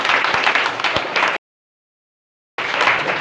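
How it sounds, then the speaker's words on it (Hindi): Loud applause from a seated audience at a network marketing talk, a dense wash of clapping in two bursts with a silent gap between them. "तो एक बार जोरदार तालियां होनी चाहिए।"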